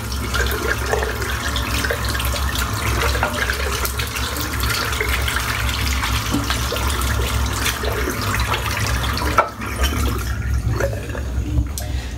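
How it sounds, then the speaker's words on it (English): Running tap water rinses soap from a shaving brush, a steady close splashing flow into a sink that continues throughout, with a brief clatter partway and no talk. "so I'm just going to rinse the soap off"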